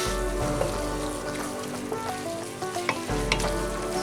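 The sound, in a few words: garlic frying in a pot for hamburger soup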